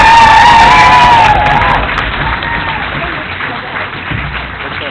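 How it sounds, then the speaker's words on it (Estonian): An audience in a school hall at the Saaremaa Gymnasium breaks into loud applause and cheering for finalist teams at a national high-school championship final, rising after a voice and holding as a dense, steady roar. "palun tervitame ühe suure sooja Saaremaa aplausiga finaali jõudnud võistkond"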